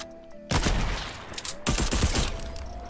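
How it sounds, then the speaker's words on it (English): Fortnite gunfire erupts in two loud bursts of rapid shots, close and punchy, with a brief lull between them. "there's a bot trying to shoot at us"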